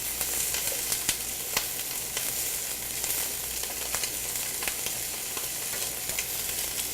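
Steady, close sizzling of shrimp frying in a pan over low heat, with crisp pops and crackles over a constant hiss, no voices.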